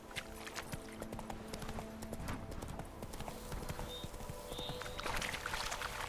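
Horse hooves clip-clop steadily through the Witcher 3 game world, a continuous rhythmic trot with a faint whinny-like tone near the end, heard alone without talk.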